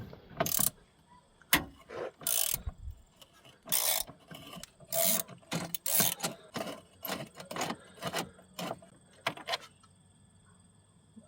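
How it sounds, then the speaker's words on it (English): A ratchet turns a bolt extractor on a stripped bolt during transmission mount work on a 2006–2010 VW Jetta, Golf or Rabbit, making repeated close, sharp clicks and rasping metallic strokes in uneven bursts. "Use a ratchet and start rotating counterclockwise."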